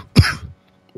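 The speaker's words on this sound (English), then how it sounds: "still have a very terrible cough" A single harsh cough bursts out close by, one strong rough blast that trails off, followed by a short quiet stretch and a faint stir at the end.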